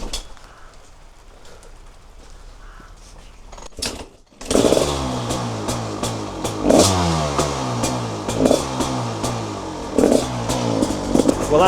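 A motorcycle fitted with a China Billet Pro clone carburettor, run on base settings, starts after quiet rain-like hiss. It then revs loudly and close, with several throttle blips rising and falling.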